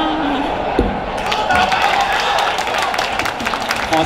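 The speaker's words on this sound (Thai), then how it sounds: "ขอเสียงปรบมือและส่งกำลังใจให้กับเมจิเคิลด้วยนะครับ" A crowd applauds the idol group Magical at the Idol Expo event in Bitec Bangna, with scattered claps and cheering rising into a steady wash of applause under a person talking.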